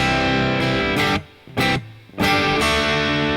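Distorted electric guitar riff in loud, crunchy bursts separated by short rests, played close and alone.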